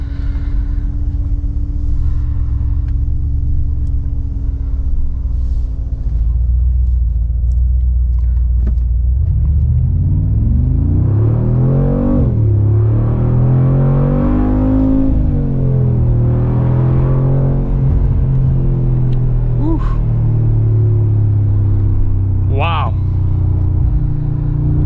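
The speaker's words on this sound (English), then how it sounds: "This car sounds incredible." A Mercedes-AMG G63 SUV engine rumbles deep and loud during a test drive, climbing in pitch through several rising revs and gear changes, with a person talking over it.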